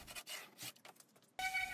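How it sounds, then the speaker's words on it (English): Sandpaper rubbing across the wooden drawers of an antique cabinet during refinishing, in short rasping strokes, close and fairly quiet, with a brief pause before a louder burst of scraping. "now I am sanding the drawers"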